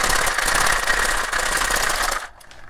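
A cocktail shaker full of ice is shaken hard for a Cap'n Coco rum daiquiri, a loud, fast, continuous rattle up close for about two seconds that stops abruptly.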